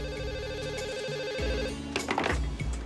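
A telephone rings with a steady, warbling electronic tone at close range, followed near the end by a jumble of louder clattering noise.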